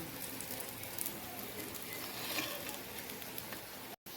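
Beetroot cutlets shallow frying in oil in a pan give a steady, close, even sizzle and crackle that runs unbroken for a few seconds and stops briefly near the end.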